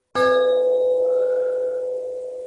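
A single strike on a gas or electricity meter gives a clear, pure ringing tone that sustains and slowly fades, with no one speaking.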